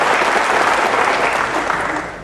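A seminar audience applauds the company's managing director, with dense, loud clapping from many hands that holds steady and then begins to fade near the end.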